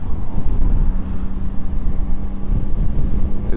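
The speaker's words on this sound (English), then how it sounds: "It's a bit windy today," Wind buffets a rider on a Yamaha Tracer 9 GT+ motorcycle on a windy day, a loud continuous rushing roar with low gusty rumble and no talk.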